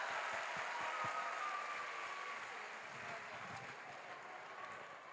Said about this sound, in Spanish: Ahora un aplauso para Jesucristo y Mamita María.